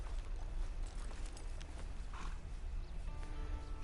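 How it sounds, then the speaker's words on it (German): A horse in Red Dead Redemption Online gives a nearby clip-clop of hooves with some creaking of tack and mechanical clicks, fairly quiet and alone without any talk. "Steige auf dein Pferd."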